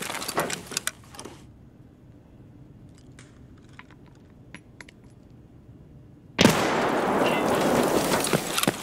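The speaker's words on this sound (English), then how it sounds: "I throw one grenade" A grenade blast in Escape From Tarkov hits hard and loud, followed by a sustained rumbling roar after a stretch of quiet clicks and faint gunfire taps.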